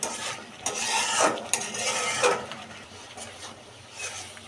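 Thick ripe mango mixture stirred continuously in a pot, a soft scraping and rubbing that swells and fades in irregular strokes at close range, with no voices.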